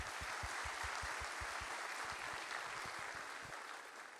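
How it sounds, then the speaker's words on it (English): Applause from an event audience honoring the staff, a steady dense wash of many hands clapping at a moderate distance, sustained without voices and tapering slightly toward the end. "how about a round of applause for all of the people who work so hard to make this event possible?"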